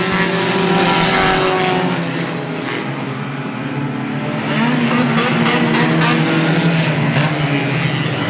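Dirt modified race cars roaring around the Airborne Speedway track in Plattsburgh, a loud continuous engine blare with rising and falling pitch as cars pass side by side, no talking.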